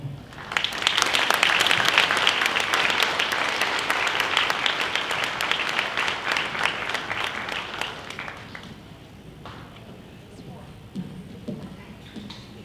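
Sustained audience applause at a Hmong community 50-year celebration in Wausau, dense clapping swelling early then thinning and fading out over about nine seconds, followed by quieter room noise.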